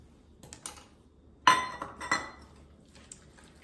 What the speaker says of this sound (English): at this point, you definitely want to have your wire whisk